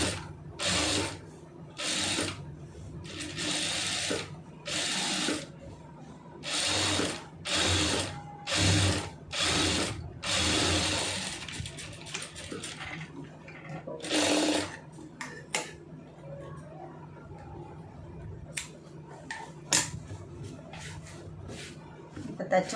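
A sewing machine stitches a simple neck design on a garment, running in short repeated bursts of rapid mechanical whirring and clicking with pauses between, close by, while someone talks over parts of it.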